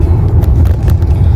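A four-cylinder Maruti Suzuki WagonR cruising at about 40 in fifth gear, heard from inside as a loud, steady low engine and road rumble with brief faint ticks and no talking.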